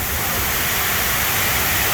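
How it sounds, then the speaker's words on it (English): Steady, dense rush of water falling and splashing down a water wall fountain in Houston, a continuous broadband roar that stays even throughout, close by with no voices. "And here's a little closer to that water wall."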